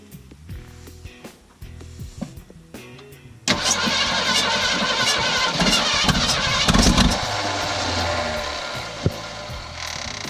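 An abandoned 1967 Ford F250 camper special cranks with a few faint, uneven turns, then catches and starts, settling into a loud, rough running engine close by.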